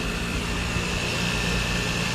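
A 2002 Lexus IS300 engine idles steadily nearby with its A/C compressor recently swapped, giving a constant, even hum and broadband rush with no variation or talk throughout.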